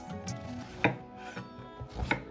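A knife trims fat from meat on a cutting board, giving several soft, irregular cuts and scrapes close up at a fairly quiet level.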